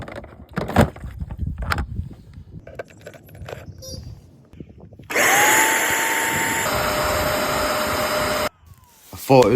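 A Bissell SpotClean Pro carpet cleaner starts up with a loud, steady motor whine and suction roar, preceded by clicks and handling noises, then runs for about three seconds and shuts off.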